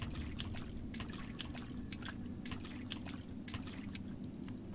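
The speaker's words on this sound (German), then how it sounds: "Hier ist auch Wasser." Water trickles and drips in an underground cave area of the video game The Longing, a soft, continuous watery patter with irregular light drips over a low rumbling ambience.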